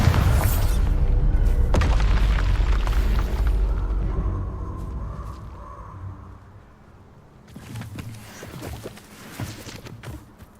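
A Bombarda spell explosion in Hogwarts Legacy gives a loud, deep booming blast that rumbles and slowly fades, followed by a quieter stretch and a second burst of rumbling impacts.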